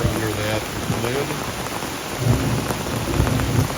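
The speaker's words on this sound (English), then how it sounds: "Hopefully you guys can hear the thunder." Rain falls steadily at a campsite during a thunderstorm, with low thunder rumbling underneath and a voice talking over it.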